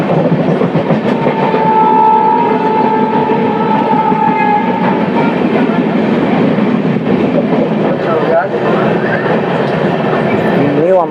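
The Haridwar–Amritsar Jan Shatabdi train rolls along the tracks toward Ludhiana Junction, heard from inside as a loud, steady rumble and rattle with faint rhythmic clicking and a brief sustained horn-like tone early on.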